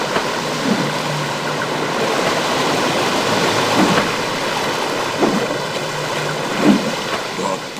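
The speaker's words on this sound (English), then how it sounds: "Here, behind the waterfall." Steady rushing water of a waterfall in the video game Pirate101, a broad continuous wash that holds an even level throughout, with a few faint game sound blips over it.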